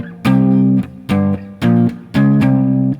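A distorted electric guitar plays a riff in fourths: four sustained chord stabs with brief gaps between them, loud and up close.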